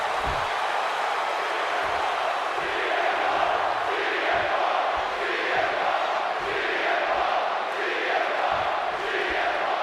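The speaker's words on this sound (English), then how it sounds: "this capacity crowd just exploded" A capacity crowd in the wrestling video game WWE 2K26 roars continuously, a dense, loud wall of cheering and shouting that swells slightly without any break.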